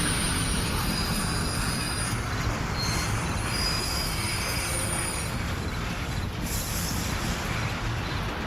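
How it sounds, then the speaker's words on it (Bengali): Two trains rush toward each other at high speed on the same line, one a goods train, in a dramatized sound effect: a loud, continuous roar of wheels with sustained high metallic squealing throughout. "দুটো ট্রেন দুদিক দিয়ে ছুটে আসছে প্রচন্ড জোরে।"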